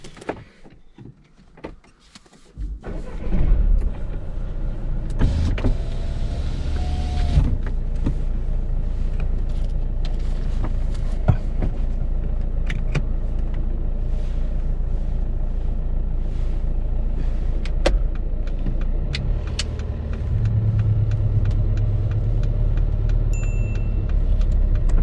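A learner driver's car pulls away on a UK side road, engine rising from a quiet start into a steady, close, continuous road and engine drone that holds for the rest of the stretch.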